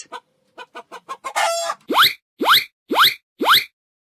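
A quick run of rooster clucks, then four loud, evenly spaced squawking calls, close and clear.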